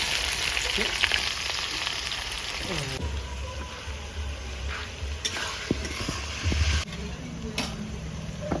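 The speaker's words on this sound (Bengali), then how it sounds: "লঙ্কা জিরে লবঙ্গ ডালচিনি একসঙ্গে সব দিয়ে দিচ্ছি ছোটো এলাচ পেঁয়াজ দিয়ে দিচ্ছি" Whole spices, chillies, cumin, cloves, cinnamon and cardamom, fry with onion in hot oil for a chicken curry, giving a steady close sizzle with stirring scrapes, while a person talks over it.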